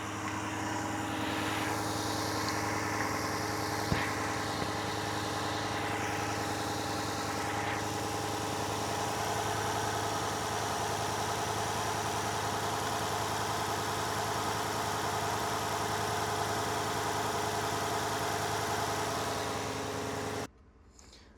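A Ford F-150 with the 5.0L V8 engine runs steadily at close range, a constant droning idle with slight rises in pitch, before cutting off abruptly at the very end.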